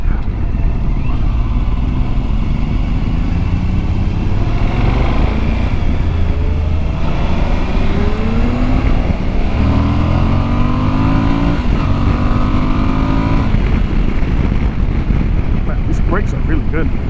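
A 2021 Suzuki V-Strom 1050XT adventure motorcycle is ridden on the road, its engine note rising and falling through revs beneath a loud, constant roar of wind.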